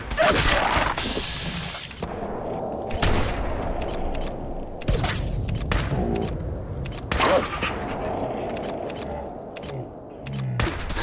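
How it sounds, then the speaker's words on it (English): Gunfire in the VR game Fallout 4, loud bursts of shots and booms in irregular clusters with clicks and mechanical noises between them. "I'm just trying to shoot him in the body"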